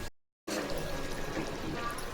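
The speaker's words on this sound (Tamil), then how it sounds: "இப்போ வந்து தண்ணி போட்டுக்கலாம்." Water is poured into a pot of mutton bones simmering for a spicy kurma-style dish, a steady close pouring and splashing that runs continuously after a brief silent gap.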